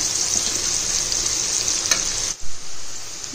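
Onions frying in oil for egg biryani make a loud, steady, close sizzle with a brief stir, then a sudden short dip and a bubbling swell before the hiss resumes.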